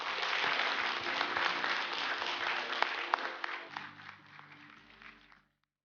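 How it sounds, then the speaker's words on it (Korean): An audience applauds to welcome a poet onto a stage, steady full clapping that holds for several seconds with a few sharper claps, then fades out and stops. "박수로 맞아주십시오."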